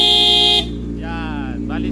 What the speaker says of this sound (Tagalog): Ito ang Hella horn po.